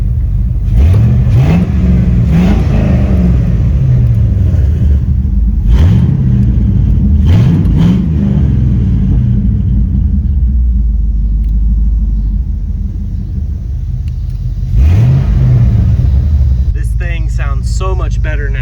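LS V8 engine idling smoothly on all eight cylinders after a misfire repair, a steady low rumble with several sharp revs rising and falling, the engine loud and close throughout.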